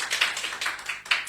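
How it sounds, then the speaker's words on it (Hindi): A church congregation claps their hands together in thanks to God, a brief, close burst of brisk, uneven applause from many people that rises and falls in quick waves. "एक अच्छी ताली के साथ हम परमेश्वर को धन्यवाद देंगे"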